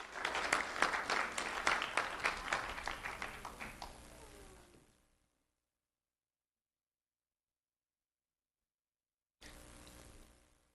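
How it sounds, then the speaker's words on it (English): Audience applause at a sheriff's office student recognition ceremony, a crowd clapping for about five seconds before fading out, then silence, then brief clapping again. "Let's have a round of applause for Alexandria Belton."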